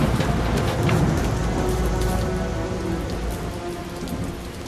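Heavy rain pours steadily on a surface with rolling thunder rumbling underneath, a dense, loud storm wash that eases slightly toward the end, no voices present.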